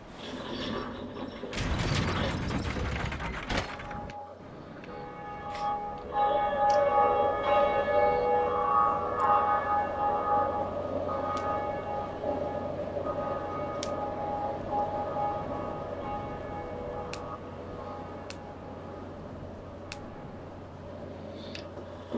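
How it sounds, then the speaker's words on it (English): A lever is pulled in Dark Souls, setting off heavy mechanical clanking and ratcheting for a couple of seconds, then a church bell tolls with a long resonant ringing that rings repeatedly and slowly fades. "So we'll go ahead and pull this lever and ring the bell."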